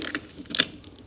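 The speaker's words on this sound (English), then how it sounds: "I'm not over tightening them, just tightening them enough" Screws being driven into an Andersen casement window sash, giving a few short, close mechanical clicks and ratcheting creaks, the loudest burst about midway through.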